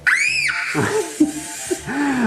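A child screams loudly to drive Yellies electronic toy spiders that speed up with noise, a long high shriek at first followed by shorter breathy cries and squeals, close to the microphone.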